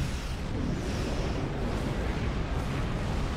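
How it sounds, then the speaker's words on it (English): Metreon gas igniting across a nebula in the Star Trek Online space game, a sustained, dense roaring rumble of explosions with broad crackling noise, loud and continuous throughout without any speech. "I'm just gonna ignite the Metreon gas because it's fun. I can make the whole nebula explode around me."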